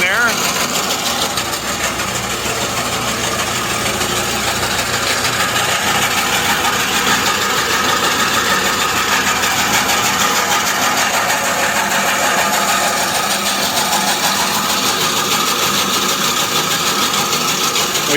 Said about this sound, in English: In-feed auger fires right up. See it turning there.